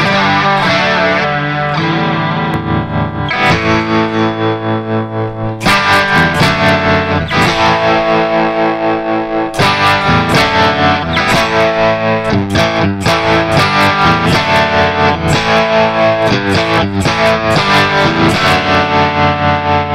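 An Enya Nova Go Sonic carbon fiber composite guitar plays through its built-in speaker with a tremolo effect, strummed chords pulsing in a rapid, even throb, loud and clear with no talking.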